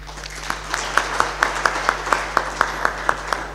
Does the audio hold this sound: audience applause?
yes